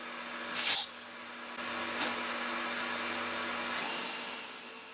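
A power drill bores pilot holes at 45 degrees into a board on a folding workbench, a steady whirring hum that keeps going with brief pitch shifts and faint hiss, close and clear, no talk.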